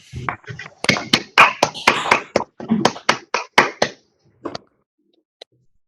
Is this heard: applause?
yes